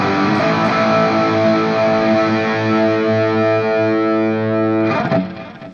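Distorted electric guitar plays the intro of a song, a loud, sustained overdriven chord ringing out with chorus and reverb, then a fresh strum near the end before fading.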